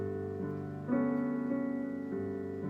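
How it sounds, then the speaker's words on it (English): Sustained digital keyboard piano tones shifting between a few held chords, smooth and synthetic, playing alone at moderate volume. "like when you hear a nice piano"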